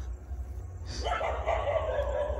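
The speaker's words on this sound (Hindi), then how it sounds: "भौंक रहे।" A dog barks and yips once or twice near the microphone, a short burst that then trails into a whine, over a steady low hum from the surroundings.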